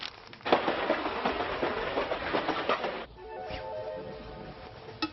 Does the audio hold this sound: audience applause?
no